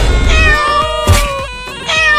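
A kitten meows loudly and close in a cartoon comedy with a snake, giving two or three drawn-out, wavering cries over a low rumbling background.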